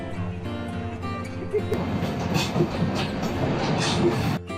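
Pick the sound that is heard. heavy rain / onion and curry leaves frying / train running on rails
train running on rails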